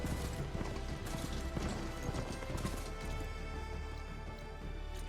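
Hooves of a ridden machine horse clip-clop in a steady, fairly fast rhythm across ground in Horizon Forbidden West, a close and continuous patter over game ambience.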